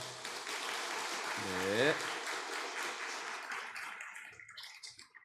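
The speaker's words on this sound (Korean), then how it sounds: "아이들에게 크게 인사할 때 격려의 박수합니다" A church congregation at a Sunday service in Korea applauds the children, a broad steady wash of clapping that swells midway and fades toward the end, with a voice speaking briefly over it.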